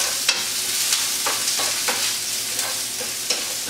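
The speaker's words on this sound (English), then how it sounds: "I'm going to throw it into a pan with a little bit of olive oil, and we are going to saute the onion" Half an onion sautés in olive oil in a pan, giving a loud, steady sizzle close up, broken by short scraping stirs about every half second to second.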